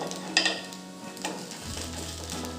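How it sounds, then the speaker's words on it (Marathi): A fasting-day dhirde pancake roasts on a hot pan with a soft sizzle, a couple of brief clinks and scrapes early on, then a steady low frying hiss. "छान खरपूस भाजून झाले खालची बाजू पण आपण छान भाजून घेऊ"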